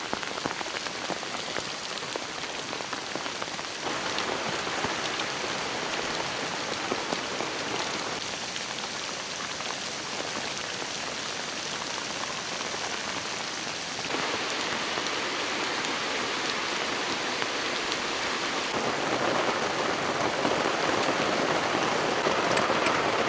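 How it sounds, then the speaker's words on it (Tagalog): Heavy rain pounding a campsite during solo camping in strong winds, a dense, continuous roar of drops hammering surfaces close by, swelling slightly louder near the end with no voices. "Lakas ng ulan."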